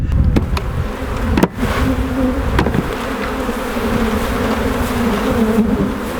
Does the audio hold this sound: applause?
no